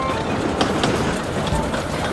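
A train rushes past close by, a steady loud roar with rumbling and rhythmic clatter throughout.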